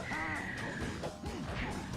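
A bird calls suddenly and nearby with harsh, crow-like caws, a few rasping cries repeated over a steady background.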